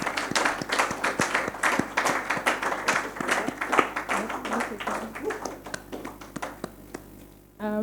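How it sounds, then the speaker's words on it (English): Audience at an International Women's Day roundtable clapping for a speaker, sparse individual claps that thin out, with some voices near the end. "Please let's give her a round of applause."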